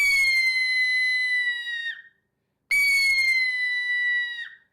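Two long, steady, piercing screams from a Ninja Hawk game call mimicking a red-tailed hawk, each trailing off with a short downward slur, separated by a brief pause and heard with no talking.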